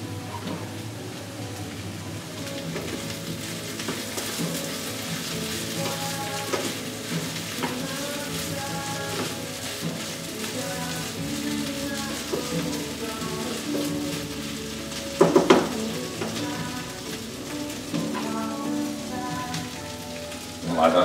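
Sausages sizzling in a frying pan, a dense continuous crackle and hiss like steady rain with a few louder spits near the end, close and sustained, with faint background voices.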